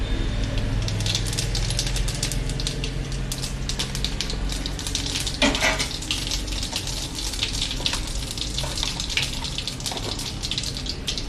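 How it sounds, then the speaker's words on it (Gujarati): Whole cumin seeds, half a teaspoon, hitting hot oil in a home kitchen pan, giving a steady dense crackling sizzle that stays loud and continuous throughout, with a brief sharper burst in the middle and no voices. "તેલ સરસ ગરમ થઈ ગયું છે, તો તેમાં આખું જીરું અડધી ચમચી નાખી દેશું"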